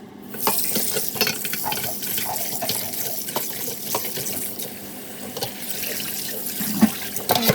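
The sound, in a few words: washing small fish under running tap water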